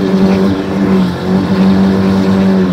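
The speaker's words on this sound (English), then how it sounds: "I'll show you how to drift it." An everyday daily-driver car being drifted and spinning cookies on the street, its engine roaring loud and steady at high revs with little change, heard close, with no talk.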